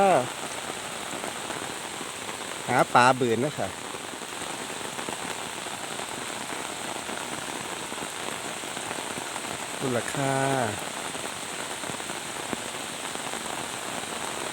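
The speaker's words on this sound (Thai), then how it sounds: "ฝนตกช่ำๆนะคะ ตกช่ำๆแล้ว" Heavy rain pours steadily onto surfaces at night, a dense continuous hiss, with someone speaking briefly twice over it.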